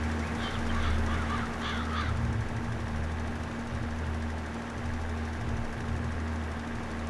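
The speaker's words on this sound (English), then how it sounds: "turn on the spreader." Steady hum of a tractor running a front-mounted spreader in Farming Simulator 22, a constant low engine drone with a few brief honk-like calls near the start, no talking.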